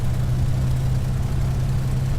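Supermarine Spitfire engine in a flight simulator game, a continuous low droning hum, steady and fairly loud, with no speech over it.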